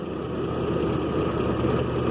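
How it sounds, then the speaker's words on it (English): A 2001 GMC Jimmy engine idles steadily up close, a faint rapid ticking from a leaking passenger-side exhaust manifold riding within the continuous low rumble. "You can hear this little tick, tick, tick, tick, tick."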